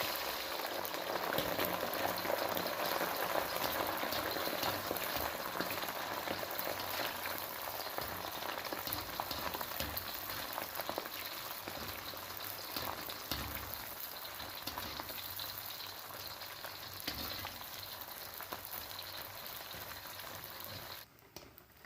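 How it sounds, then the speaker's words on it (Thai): Pork liver fries in hot oil with a steady, dense crackling sizzle that runs unbroken for over twenty seconds, close and even in level, with no voices. "นำตับหมูมาทอดต่อเลยนะคะ"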